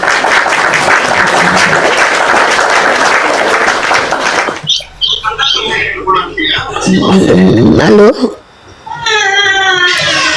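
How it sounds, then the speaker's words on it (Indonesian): A crowd at a public gathering claps loudly and densely for several seconds, then the applause cuts off and mixed voices and a child's cries take over. "Tak nak naik, tepuk tangan dulu."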